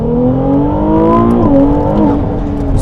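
A Ferrari 296 GTB engine accelerates hard, loud and close, its revving pitch climbing through gears with brief shifts and a rising, whirring mechanical note throughout.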